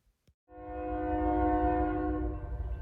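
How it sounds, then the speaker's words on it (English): CSX freight train I-168 sounds its horn at the Attica Junction diamond crossing on a brisk morning, a loud sustained chord that starts abruptly after a faint tap and holds steady. "the first train of the day would be the typical CSX I-168"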